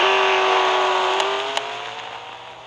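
In Real Racing 3, a 2014 McLaren P1 engine revs loud and close in a sustained tonal roar that gradually eases in pitch, with two brief clicks partway through and no voices.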